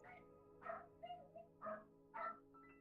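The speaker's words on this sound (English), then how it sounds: "That's a different dog noise." A dog heard from a video being watched makes a string of faint, whiny yelps and bow-wow sounds, five short bursts over a low steady hum, with no talk over them.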